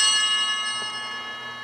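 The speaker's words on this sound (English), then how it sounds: "At that point, the bells are rung one time with a short" Altar bells at Mass ring once in a short, bright, shimmering strike that decays slowly with a lingering metallic tone, heard alone.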